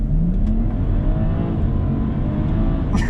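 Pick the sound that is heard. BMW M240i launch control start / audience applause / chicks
BMW M240i launch control start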